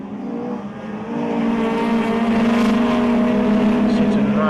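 Race cars, a Toyota, a Honda and an Opel Corsa, run on track at a regional circuit racing event, a loud steady engine drone building after a second and holding strong, with a commentator talking over it.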